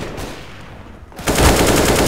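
Gunfire in a first-person shooter video game: a quieter stretch gives way to a loud, dense burst of rapid automatic shots in the second half, close and continuous, with no voices.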